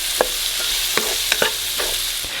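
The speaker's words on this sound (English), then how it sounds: "I'm going to saute this for about 5 minutes until the vegetables are soft" Vegetables and garlic sizzling in a hot pan, with several sharp scrapes and taps of a utensil stirring them over a steady, close frying hiss.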